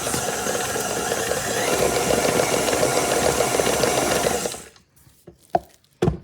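An electric mixer whirs steadily as it whips peanut butter buttercream icing, a loud continuous churning hum that cuts off abruptly, leaving a few sharp knocks and clatters afterward.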